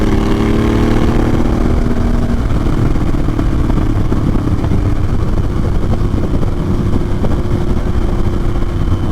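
A Harley-Davidson Sportster S motorcycle engine roars loud and close as it revs, a continuous heavy rumble that climbs in pitch and holds at a steady, powerful drone throughout.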